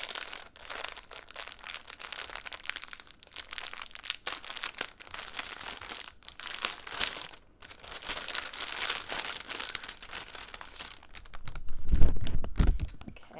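Crinkly packaging around a fabric order is unwrapped up close in bursts of crackling and rustling, quiet and irregular, with a heavier handling thump near the end.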